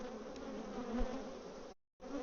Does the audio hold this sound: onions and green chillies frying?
no